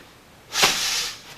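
A sharp, forceful breath pushed out during a Goju-ryu karate strike, a single loud hissing exhale that tails off slowly.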